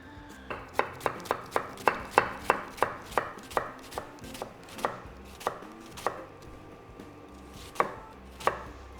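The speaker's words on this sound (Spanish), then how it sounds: "Picamos media cebollita que vamos a emplear luego en el sofrito" A knife chops half an onion on a cutting board in a cooking demonstration, with a quick run of crisp, evenly spaced taps that slows to a few scattered cuts, close up and without talk.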